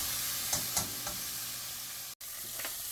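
Beef seasoned with salt and pepper searing in a pan for birria tacos: a steady loud sizzle with occasional soft stirring scrapes and a brief cut near the end.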